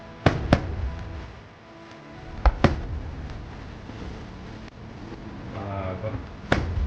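Canada Day fireworks bursting at a distance in several sharp booms, two early pairs and a later single, over a low crowd murmur with people chatting nearby.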